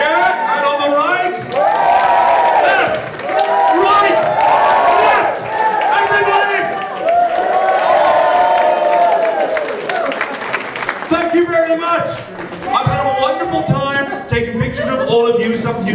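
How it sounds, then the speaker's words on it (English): A large convention crowd claps and cheers loudly and continuously, with shouts and chatter mixed in as the applause rises and falls. "Are we tired of clapping yet?"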